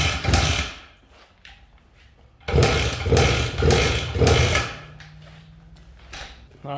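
Vintage Aermacchi Z90 motorcycle engine being turned over by hand and then kickstarted during a compression test: several rough rhythmic cranking bursts, a pause, then four strong evenly spaced strokes, close and loud.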